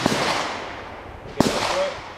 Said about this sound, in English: I'm gonna do one more shot.